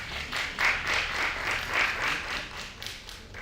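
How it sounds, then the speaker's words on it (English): Applause from an audience at a conference symposium, steady clapping that swells and fades in waves, no voices over it. "Let's give him a clap, please."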